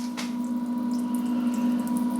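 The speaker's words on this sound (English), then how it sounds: "And that drains really fast. It's coming out of that bottom drain already." Water gushes steadily from the bottom drain of a copper still, a continuous close rushing flow with a strong hum-like tone throughout.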